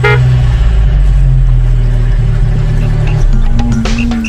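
Mitsubishi Pajero running close by, a loud steady engine drone with strong low rumble throughout, a sustained horn-like tone rising near the end, no voices.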